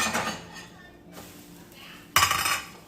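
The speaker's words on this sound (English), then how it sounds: "Let me flip my pancake." A pancake is flipped in a frying pan, giving a short metallic clatter of the pan near the start and a sharper clank and sizzle later, with faint kitchen noise in between.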